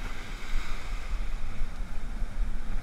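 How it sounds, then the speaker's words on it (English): Fresh onshore wind blows across a beach during surf fishing for striped bass, a steady, loud rumbling buffet on the microphone mixed with the wash of surf, continuous and with no talk. "I've got the disadvantage of having that wind in my face"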